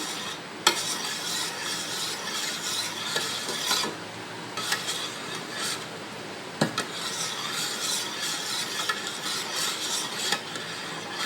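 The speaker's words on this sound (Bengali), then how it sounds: "এবার দইটা দিয়ে দিচ্ছি, দিয়ে ভালো করে ফেটে নেব।" Strained yogurt beaten by hand in a bowl: a steady, close rasping and scraping that runs for the whole stretch, broken by a few sharp knocks against the bowl, with no voices.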